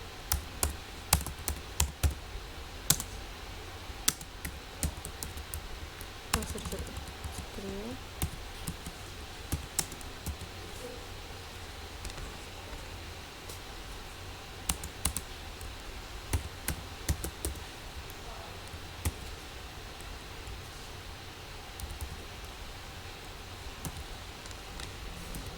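Steady typing on a computer keyboard, close and continuous, with crisp key clicks in irregular runs and a few louder taps over a faint background hum.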